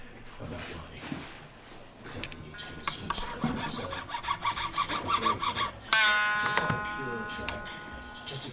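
A nut file cuts the second-string slot in the nut of an LTD Viper guitar with a quick run of close, rhythmic rasping strokes, after which a plucked string rings out. Someone talks softly throughout.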